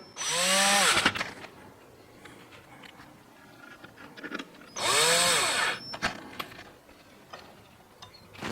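A power drill drives screws into the power board of a Vizio TV at its AC connector, two loud whirring bursts with quiet handling and clicks between them.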